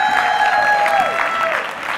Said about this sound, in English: big round of applause for the couch crew